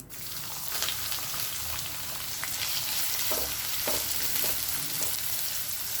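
Garlic sizzling and frying in hot oil with mustard seeds, a steady close crackle with occasional small pops and a light stir or two, no talking.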